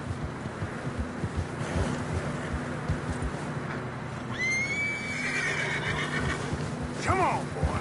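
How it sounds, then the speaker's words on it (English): A horse neighs loudly near the middle and again near the end in Red Dead Redemption 2, over a steady background of hoofbeats, wind and faint voices. "Horses are getting tired."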